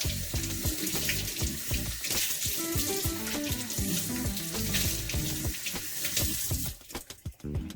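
Tap water gushes steadily into a sink while vegetables are rinsed under it, a loud, continuous splashing that ends with a few drips and clatters.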